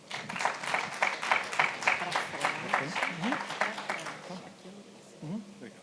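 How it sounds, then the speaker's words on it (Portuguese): Audience applause for a speaker at a satellite industry congress, a steady wash of many hands clapping for several seconds before fading out, with a few voices rising near the end. "Peço uma salva de palmas para ele."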